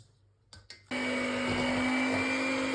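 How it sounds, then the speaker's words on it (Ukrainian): An electric mixer whisking a cottage cheese and egg batter for a sirnyk cheesecake starts up with a couple of short bursts, then settles into a steady loud whirring drone close by. "Збиваю все міксером до повної однорідності."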